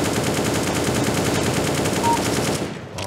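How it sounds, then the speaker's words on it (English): Kalashnikov rifle in the video game CSGO fires in a sustained automatic burst, loud and close, with rapid evenly spaced shots for about three seconds before cutting off abruptly near the end. "All right, CSGO, rifle, Kalashnikov."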